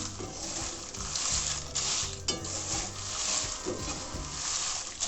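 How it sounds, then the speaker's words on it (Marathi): Lavangi chillies are dry-roasted in a pan, with a continuous dry rustling and scraping as they are stirred, plus faint sizzling and occasional clinks of the utensil on the metal, close and steady throughout. "प्रथम आपण लवंगी मिरची भाजून घेऊया थोड्या थोड्या प्रमाणामध्ये तीन चार वेळा भाजून घ्यायचं आहे"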